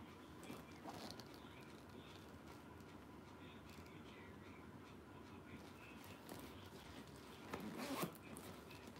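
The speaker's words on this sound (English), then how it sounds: "Zippers work great." Zippers on a purse with gold-toned hardware being pulled open and shut, quiet scratchy zipping strokes repeating over a faint background, with a louder, longer zip near the end.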